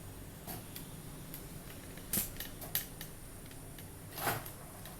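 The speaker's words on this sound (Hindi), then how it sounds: "और ये दरवाज़ा वापस इसका क्लोज हो जाएगा" An automatic cage door opener closes its door with faint mechanical creaks and a few sharp clicks over steady low hum, a brief clack near the middle and another creak toward the end.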